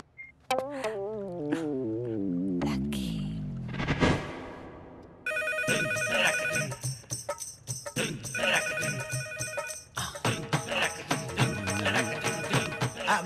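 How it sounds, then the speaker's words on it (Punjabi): A telephone rings in a Punjabi film scene with a repeated electronic ringtone that sounds near and loud, following earlier whooshing and warbling sound effects. "ਫੋਨ ਚੁੱਕੋ।"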